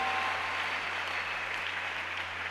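A church congregation applauding at a French-language service, a steady, dense wash of clapping from many hands filling the room with no speech over it.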